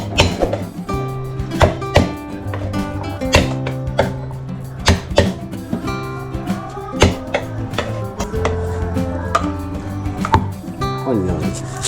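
Garlic is chopped on a board for a pork belly marinade, loud, close knife knocks in an uneven run of repeated strikes, with music playing underneath.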